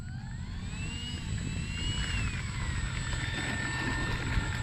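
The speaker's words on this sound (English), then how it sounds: "I'm impressed with this little plane." A small Dynam Skytrainer 182 RC model plane flies overhead with a steady, buzzing electric motor whine that rises and falls slightly in pitch as it passes, set against constant outdoor wind rumble.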